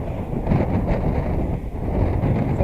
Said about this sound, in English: It's getting a bit windy actually